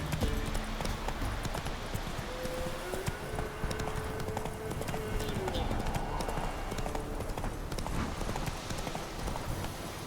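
Horse hooves clip-clop in a steady rhythm as a rider travels in The Witcher 3: Wild Hunt, accompanied by ambient game sound and a voice talking over it.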